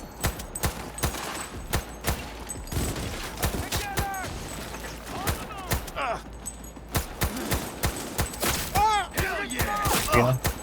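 Semi-automatic gunfire in Cyberpunk 2077 cracks out as single shots spaced irregularly, loud and close, among impacts and game effects, with a player's voice talking at times underneath.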